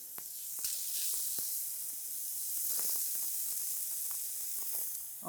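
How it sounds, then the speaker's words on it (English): Bacon sizzles in a hot pan with no added fat, a soft steady frying hiss with scattered faint pops and crackles, heard up close and without talk. "Start the bacon sizzling."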